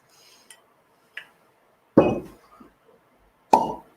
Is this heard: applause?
no